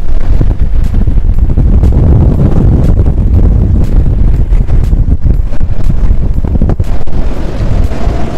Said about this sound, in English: You can listen to the sounds of wind blowing.